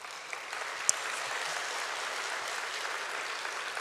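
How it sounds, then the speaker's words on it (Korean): Steady, even applause from a church congregation during a Sunday evening worship service, welcoming a speaker forward; a dense wash of clapping that holds at moderate volume for the whole stretch, with no voices standing out. "이 시간에 나올 때 큰 박수로 환영해 주시면 좋겠습니다"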